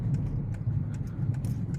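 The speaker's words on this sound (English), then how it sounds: "you'll see Oisin going on the fast gallop called the Albahatri gallop" A racehorse gallops on the Albahatri fast gallop at Newmarket, its rapid rhythmic hoofbeats thudding over a low rumbling background at moderate distance.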